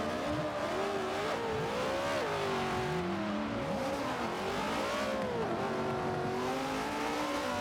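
Mustang and Maserati race cars on the Sebring circuit in an exhibition race, engines roaring loud and steady as they accelerate, pitch rising and falling through gear changes, with faint tire squeal and no talk.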